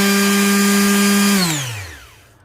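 A Bosch PSM 100A multi palm sander whirs loudly at high speed with a steady tonal hum, then is switched off and winds down, its pitch sliding away to quiet.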